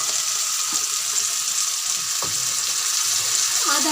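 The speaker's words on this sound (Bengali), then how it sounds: "টমেটো পেঁয়াজ কাঁচা লঙ্কাকে একটু ভালো করে ভাজা ভাজা করে নিচ্ছি" Chopped tomato, onion and green chili fry in hot oil with garlic paste, giving a steady bright sizzle with a few soft clinks and scrapes of a spoon in the pan.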